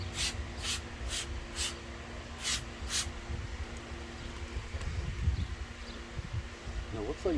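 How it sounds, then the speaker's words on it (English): Shine Supply Wise Guy wheel and tire cleaner sprays onto a tire in six short, crisp hissing bursts from a trigger sprayer during the first three seconds, followed by quieter handling noises and background hum. "we're just going to see if we spray some more Wise Guy on the tire"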